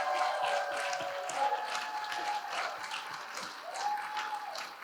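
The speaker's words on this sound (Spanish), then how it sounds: "un aplauso enorme para Simi Larrat" Applause from an audience greeting Simi Larrat, Brazil's first national travesti secretary, at a talk event; a steady wash of clapping fills the span at moderate level, with faint tonal background sounds weaving through.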